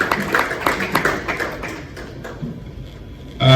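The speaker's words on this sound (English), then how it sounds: "Here's a round of applause for Dr. Omidi" At a symposium on mpox disease held at the Protea Hotel in Ikeja, a seated audience claps a brief round of applause. Dense patters fade over about two seconds to quiet room tone, then a voice starts.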